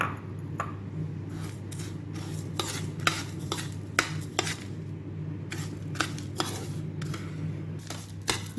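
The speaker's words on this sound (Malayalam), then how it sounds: "കുറച്ച് ബട്ടർ എടുക്കാം, അതിലേക്ക് ഈ ബിസ്ക്കറ്റ് പൗഡർ മിക്സ് ചെയ്യാം, കുറേശ്ശായിട്ട് മിക്സ് ചെയ്യാം." Butter and biscuit powder are worked together in a bowl, with repeated spoon scrapes and taps at an uneven pace over a low steady hum, close up and without speech.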